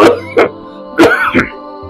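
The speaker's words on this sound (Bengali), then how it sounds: "খুব কাশি হয়েছে।" Two pairs of loud, close, harsh coughs, each pair a quick double burst, separated by a brief pause.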